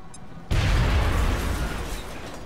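A frag grenade blast in XCOM: Enemy Within, a sudden loud boom that hits at once and rolls off in a long, fading rumble.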